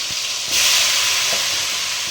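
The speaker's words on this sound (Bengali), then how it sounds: "তেলের মধ্যে কিন্তু মাংসটা দিয়ে দিচ্ছি এবার অল্প অল্প করে" Pieces of meat dropped a little at a time into hot oil give a loud, close, steady hissing sizzle that swells briefly as more meat goes in.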